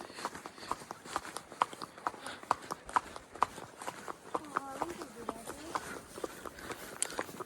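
Horse hooves clip-clopping on a trail ride in Pahalgam, Kashmir, an irregular run of sharp knocks close by, with voices talking over the steady plodding.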